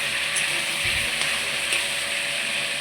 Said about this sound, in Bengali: এবার আলু আর মটর যখন ভাজানো হয়ে যাবে